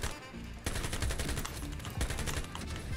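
FAMAS G2 assault rifle fire in the Ironsight shooter game, loud rapid automatic bursts crackling almost continuously over the whole stretch with a few short breaks.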